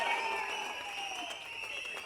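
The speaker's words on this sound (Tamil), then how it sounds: "நல்ல ஒரு கைத்தட்டல் தாங்க." Crowd applause at a Tamil political rally, a steady wash of clapping throughout, moderately loud and continuous, with a sustained tone running underneath.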